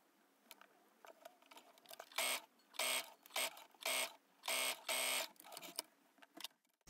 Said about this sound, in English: Grab your bra piece and sew lower edge between notch using a straight stitch about 1 centimeter.